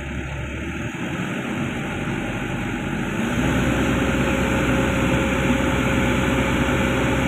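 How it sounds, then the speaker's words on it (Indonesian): A Komatsu PC200-10 excavator engine runs at high idle with no load, a steady mechanical drone that steps up and grows louder partway through, with a constant high whine layered above. "Di putaran high idle, putaran tinggi tanpa beban."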